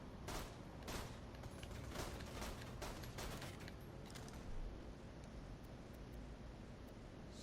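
Burst-fire gun shooting in the Borderlands 2 video game, repeated clusters of rapid shots with a continuous hiss behind them, loudest early and thinning out later.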